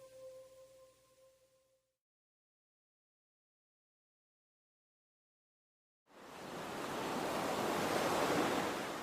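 Pacific Ocean waves and surf off the coast of California rush in after a brief tone and a long silence, building into a loud, steady wash of breaking water with some wind.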